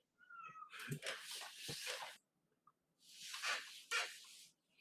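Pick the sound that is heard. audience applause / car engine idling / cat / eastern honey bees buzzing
cat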